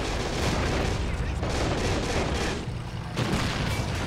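A Chi-Ha tank cannon fires in a tank battle video game, its loud boom set in a dense, continuous wash of battle noise that barely dips for a moment before surging again.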